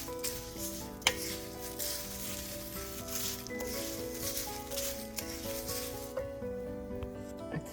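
Desiccated coconut fries lightly in a pan with a continuous soft sizzle, punctuated by occasional scraping and tapping as it is stirred, with a faint steady hum underneath.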